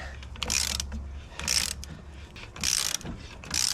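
A cheap bearing puller is tightened onto the hanger bearing of a 7.3 driveshaft, giving four separate bursts of ratcheting clicks spaced about a second apart. Faint low rumbling fills the quiet gaps between them.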